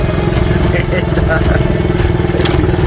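A small classic Honda motorbike engine putters and revs up close during a suspension test ride, with a voice talking over the steady buzzing drone.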